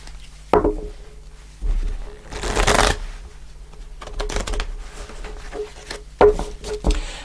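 Rider-Waite tarot cards shuffled by hand in a series of papery riffling bursts and soft taps, close and moderately loud, with short pauses between handfuls and no talking.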